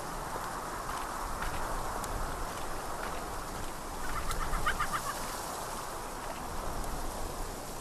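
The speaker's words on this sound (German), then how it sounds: "Hier gackert die ganze Zeit irgendein Vogel, was auch immer." A bird clucks repeatedly in the video game Syberia 2, a faint, quick series of clucks over a steady ambient hiss, alone without talk.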